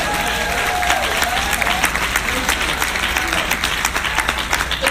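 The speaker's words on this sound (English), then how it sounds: "Clap your hands for them" Congregation applause honoring the women who calculated the first moon mission, a continuous wash of many hands clapping at even loudness, no voices over it.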